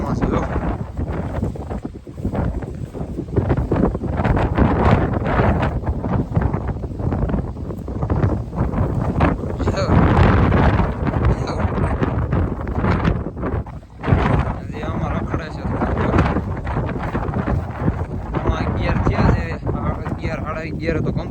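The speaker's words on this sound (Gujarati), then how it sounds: "પવનની લેરખી છૂટે" Wind buffets steadily against the microphone outdoors in Gir, a rough continuous rumble that runs under people talking throughout.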